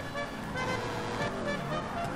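A loud, sustained truck horn fitted to a car in GTA 5 blares steadily across the whole moment, layered over engine and road noise with no gaps.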